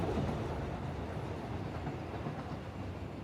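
Long freight trains in the game Satisfactory struggling up steep ramps, a steady low rumble of rolling wagons with faint rhythmic clatter, heard alone without talk.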